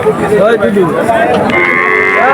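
Cattle moo repeatedly amid the steady din of a busy outdoor cattle and goat market, with faint voices in the background.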